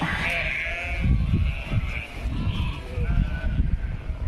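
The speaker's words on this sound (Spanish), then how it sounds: "las ovejas parece que hacen cola para verla" A flock of sheep bleats in a field as a horse named Maggie stands among them, several wavering calls rising one after another near and loud, with a person talking over them.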